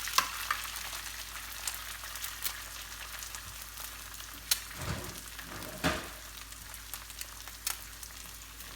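Scrambled eggs fry in a carbon steel pan with a steady, soft sizzle, close and continuous, broken by a few louder scrapes or clinks as they are stirred.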